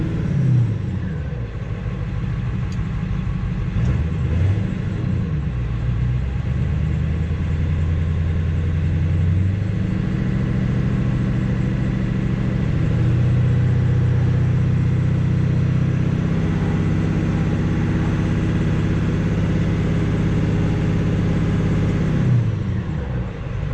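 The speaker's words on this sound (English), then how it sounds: "We'll rev her up one more time." A 7.3 diesel truck engine with 294k miles idles with a deep clattering rumble, then is revved up and held at higher speed for several seconds before dropping back to idle, close and loud with no talk.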